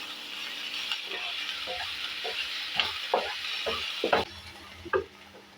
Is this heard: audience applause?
no